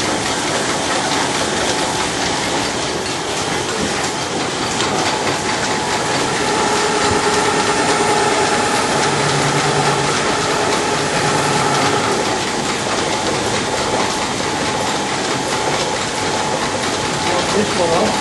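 Belt-driven pulley machinery in the old Wortley Top Forge machine shop runs continuously with a loud, dense clattering and ratcheting rumble, steady throughout, with a voice speaking faintly beneath it.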